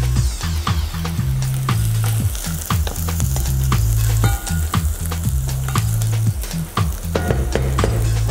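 Garlic frying in oil, with onions and peppers already in the pan, crackles loudly and up close, broken by a quick run of regular knocks and scrapes from stirring.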